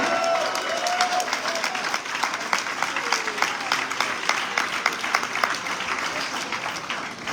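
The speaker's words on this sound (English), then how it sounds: "Y'all come on, clap for black." Church congregation clapping, a loud continuous wave of many hands filling the sanctuary for the whole stretch, with faint crowd voices mixed in.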